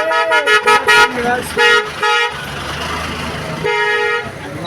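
Car horns honking in short bursts and longer blasts amid busy Egyptian market street traffic, with a voice briefly heard among the honks.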